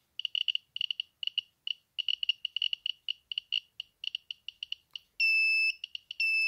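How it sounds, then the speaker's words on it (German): A Geiger counter held near a radium-painted clock dial chirps in rapid irregular bursts of sharp high clicks, then switches to a loud continuous electronic alarm tone near the end, with no talk. "Hier ein Geigerzähler."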